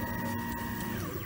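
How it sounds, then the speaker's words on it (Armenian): CNC machine tool starting its work after settings are sent, a steady mechanical whir with sustained tonal hums, close and continuous throughout. "և սկսում աշխատանքը հաստոցին"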